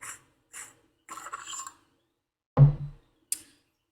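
Short scrapes, ticks and a dull thunk come from a custom lightsaber handle being unscrewed and opened. They are close and separated by silence.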